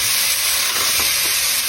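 Wine and a pinch of salt hit a hot pan for white pasta, setting off a loud, dense, continuous sizzling hiss close up for the whole moment.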